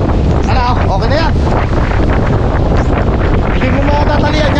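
Strong gusting wind from Typhoon Uwan roars loudly and continuously into the microphone, a dense close buffeting rush, with faint voices talking partly buried beneath it.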